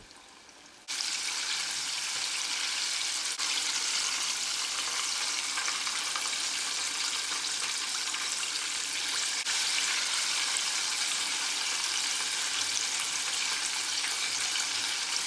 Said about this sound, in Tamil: இப்போ இது நல்லா ஃப்ரை ஆகட்டும்.